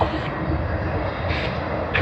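A Qantas Airbus A330 jet airliner drones steadily at moderate distance, a continuous engine rumble with slight swells and no clear pauses.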